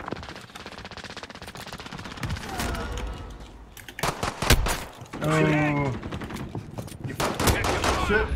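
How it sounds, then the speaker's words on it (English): Gunfire in Call of Duty: Warzone, with rapid bursts of automatic shots, some near and loud and others farther off, spread through the clip under steady game noise. A voice briefly mixes in. "someone's shooting me from the hills"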